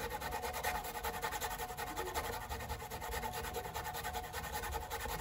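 Fresh ginger being rasped on a grater, a continuous close scraping and rubbing texture with quick repeated strokes running steadily throughout, no voice over it.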